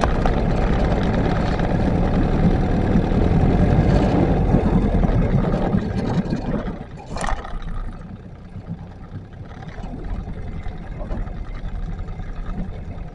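A Johnson 9.5 outboard motor on a 12-foot jon boat runs loud and steady with a broad droning roar, easing briefly around the midpoint before settling back to a slightly quieter continuous hum.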